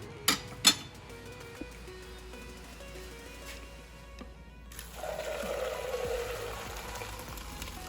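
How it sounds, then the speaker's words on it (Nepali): Water drains from half-cooked rice for chicken biryani: a few sharp pot clatters first, then a steady pouring rush for the last few seconds. "अब म यसलाई पानी तारिदिन्छु"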